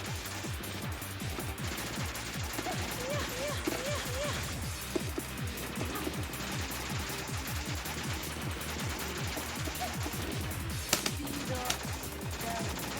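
Dense, rapid shots fire continuously at a boss cannon in the arcade shoot-'em-up Pink Sweets, with crackling explosions and electronic game effects in a loud, unbroken stream.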